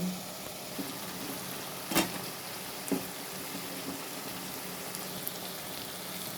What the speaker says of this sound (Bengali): এখন আমি এর মধ্যে দিয়ে দিব সিম